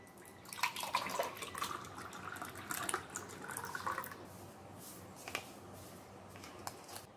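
A blended frothy drink pours into glasses, a faint, soft liquid splash and trickle running for several seconds with a few small drips toward the end.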